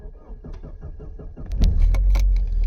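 An Opel Omega 2.0 16v with LPG cranks with a rapid, rhythmic churning for about a second and a half, then catches and settles into a loud, steady idle close by.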